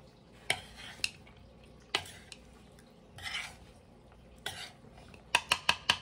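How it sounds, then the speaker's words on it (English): Butternut squash and wild rice casserole with beans being mixed in a pot, with intermittent scraping strokes and a quick run of sharp clinks of a utensil against the pot near the end. "And I'm just gonna mix that and then taste just to make sure it doesn't need any more seasoning."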